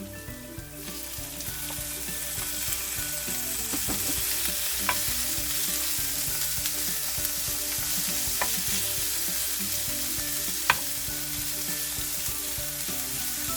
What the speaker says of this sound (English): We have to stir-fry it over high heat for 1 minute.